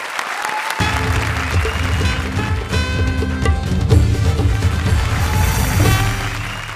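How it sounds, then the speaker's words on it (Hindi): Studio audience at a comedy show breaking into loud, sustained applause, dense clapping starting suddenly after a brief quiet moment and carrying on with music beneath it. "जोरदार तालियां हमारे सुमन की सुदेश जी के लिए।"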